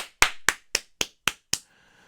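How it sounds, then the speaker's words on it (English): Six sharp, evenly spaced hand claps from a single person applauding a grandmother, crisp and close, with a brief ring-out after the last clap and no voices. "Round of applause for my grandma, everybody"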